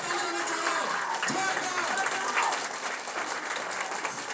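Audience applause in a packed hall, greeting a guest called to the stage, as a steady wash of clapping and crowd noise that holds for several seconds at a fairly even level.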